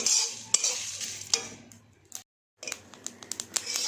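Dried red chillies and panch phoron fry in a pan, giving a steady sizzle broken by sharp scraping stirs and clinks of a spatula, with a brief quiet gap midway before the stirring resumes.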